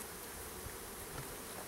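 Honey bees buzz in a dense, steady drone at close range while a new package is installed on a farm for pollination, the hum unbroken for the whole brief stretch.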